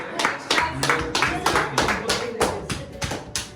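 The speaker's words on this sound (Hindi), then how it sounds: "पीछे देखो तालियां बज रही यस हैं।" Several people clap in distinct, rhythmic bursts in the background during a birthday moment, close and fairly loud, with voices talking over the claps.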